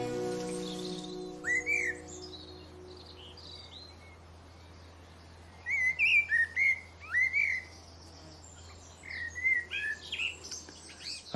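A blackbird sings in a garden in early summer, its fluting phrases coming in separate bursts over a steady low hum, with long gaps between them and insects faintly audible.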